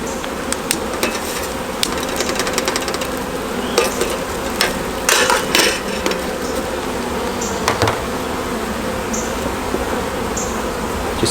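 Honey bees swarm and buzz densely around brood comb frames at an open hive, a constant close hum with scattered clicks and knocks of frames and tools mixed in.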